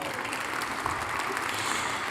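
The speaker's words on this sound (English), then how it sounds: "Give him another round of applause" Applause for a former Tennessee Vols quarterback being honored at a Discovery Award event, steady dense clapping from a large audience continuing throughout without pause.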